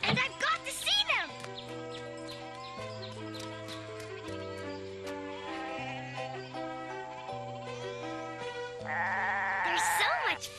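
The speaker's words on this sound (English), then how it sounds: "But Peter's here with the goats" Goats in the 1995 Heidi film give wavering bleats near the start and again at the end, set against steady background music.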